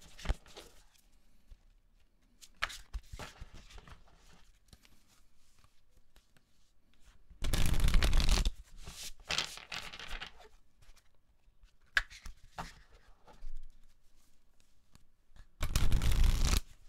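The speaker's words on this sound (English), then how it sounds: "Some Angel Wisdom Tarot." Angel Wisdom tarot cards are shuffled by hand during a reading, with short rustling bursts and two loud riffle shuffles standing out among quieter card handling.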